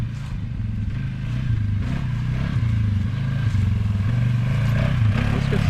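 A 2020 Polaris Sportsman 450 ATV with a clutch kit runs close by, its engine a continuous low rumble that builds steadily as it pulls away in a takeoff, with some rattling over the top.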